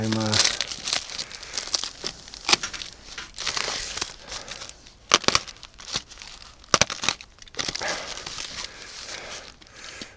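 Plastic and cardboard packaging around an egg incubator shipped from China being pulled and torn open, with bursts of crinkling, rustling and tearing in irregular rhythm, close and loud, while a person talks and a dog moves about nearby.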